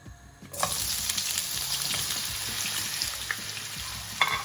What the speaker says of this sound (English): I am going to shallow fry these in this oil.